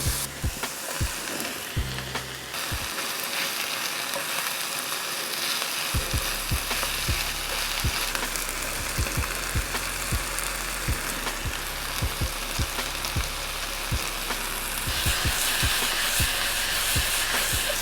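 Spinach, beans and corn with garlic paste fry in a pan, a dense steady sizzle broken by repeated sharp knocks and scrapes of stirring, growing slightly louder near the end.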